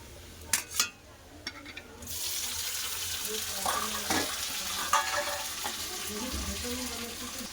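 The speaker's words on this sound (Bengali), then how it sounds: "টমেটো ভালো করে পেঁয়াজের সাথে কষে নেবো" Chopped tomato hits fried onion in a hot pan: a few sharp clatters, then a sudden loud sizzle swells up and continues with stirring scrapes, while a voice speaks briefly.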